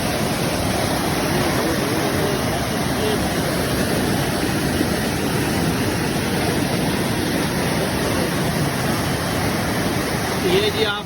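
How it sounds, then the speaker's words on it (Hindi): Fast-flowing river floodwater seen from a bridge, a loud, steady, broadband rushing roar that fills the whole clip without letup. "बहुत ही स्पीड के साथ दरियाई पानी है। ये सैलाब आया हुआ है"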